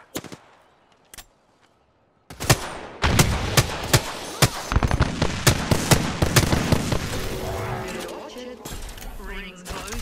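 Gunfire from a battle royale video game: a few sharp isolated shots, a short pause, then a dense, loud stretch of rapid bursts and single cracks that goes on without a break.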